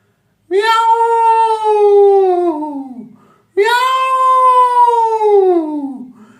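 A human voice imitates a cat, giving two long, drawn-out meows that slide downward in pitch, each lasting about three seconds, loud and close with a brief pause between them.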